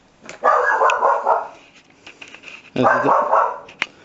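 A dog barks twice, close and loud, each bark a short burst separated by a brief quiet gap, with a small yip at the end.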